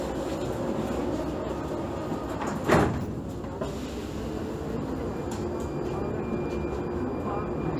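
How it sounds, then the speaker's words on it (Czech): Prague metro line A train with its doors sliding shut: a brief hissing, thudding door closure in the middle of a continuous low carriage rumble inside the car, with a background announcement voice. "dveře se zavírají"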